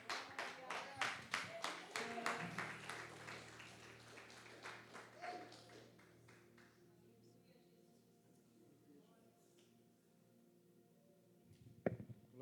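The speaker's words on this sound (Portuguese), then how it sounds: "aplaudindo a Jesus" Church congregation at a Friday worship service claps for Jesus, a loud burst of rhythmic clapping that fades into quieter room sound, with talk heard among the crowd.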